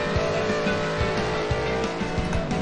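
Engines droning continuously in the beach kart racing video game Beach Buggy Racing, a loud steady roar with recurring thumps and bumps, no talk.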